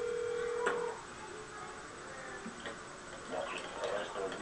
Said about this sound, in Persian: با این تلفن کوچولو دستی زنگ میزنم ببینم چی میشه.